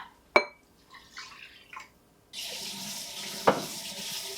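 Tap water runs steadily into a cup being filled to measure water for cooking rice in a home kitchen, after a couple of sharp clicks and soft knocks from the faucet and cup.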